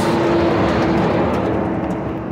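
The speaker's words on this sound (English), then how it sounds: "It's freaking cars and noises, man." Cars passing on a road near a hiking trail at Tuolumne: a steady, loud engine and tire roar from a close vehicle, continuous throughout with no voices.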